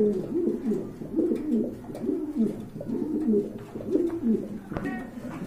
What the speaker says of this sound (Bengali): এই যে দেখেন, টানা ফায়ার কবুতর এগুলো।